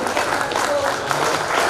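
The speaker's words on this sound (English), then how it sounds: "I want to give them a big round of applause" Audience applause at an alumni gathering in Pune, a short burst of steady clapping with some voices mixed in, fairly close and continuous.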